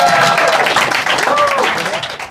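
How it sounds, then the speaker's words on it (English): Audience applause for comedians at a live comedy night, a dense, steady burst of clapping with cheering voices mixed in, loud and close throughout before easing slightly at the end. "give it one more round of applause for our comedians of the first half"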